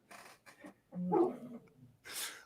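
A dog barking outside a house, a few muffled, fairly distant woofs and yips in an irregular burst, followed by a whining note before the sound fades.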